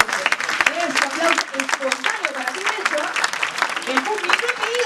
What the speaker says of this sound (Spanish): Un aplauso espontáneo para ti, Renzo.